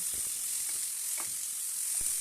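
Chopped vegetables frying in a pan with salt added for a vegetarian spinach dish, giving a steady, close sizzle with occasional soft stirring knocks and scrapes, no voices.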